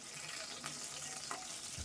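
Steady hiss and crackle of a belly-cut fish piece frying in hot oil, continuous and close, with a few brief clinks of a utensil.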